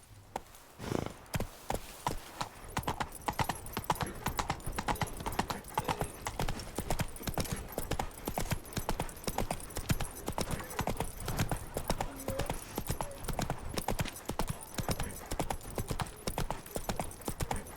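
Roach, Geralt's horse in The Witcher 3, gallops at a steady, driving clip-clop rhythm of hoofbeats that continues close and loud throughout, with a faint voice at the start.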